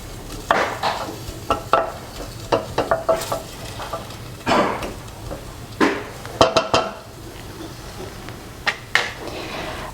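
Chopped medium onion softening and sizzling in a pot for cashew nut curry, a steady quiet fry beneath repeated sharp clinks and scrapes of a spoon stirring against the pot.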